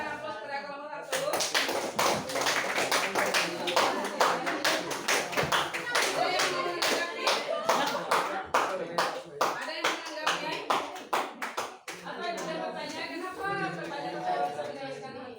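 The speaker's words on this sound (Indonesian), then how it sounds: "Kita berikan aplaus kepada kelompok 1." Audience applause for a presenting group at an Islamic talk, steady rapid clapping from many hands lasting most of the stretch, fairly close, with a brief voice at the start and chatter returning near the end.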